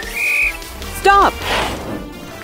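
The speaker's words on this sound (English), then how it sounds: "When Torch blows his whistle, stop." A short, sharp whistle blast with a rising-falling pitch in a children's cartoon, sounding once after a brief high tone, with faint voices and background noise around it.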